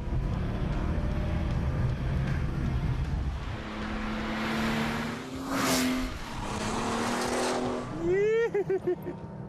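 Porsche 911 Turbo accelerating hard, its engine note climbing steadily in pitch under a loud, continuous roar, with a sharp rising whine near the end; a voice talks over parts of it.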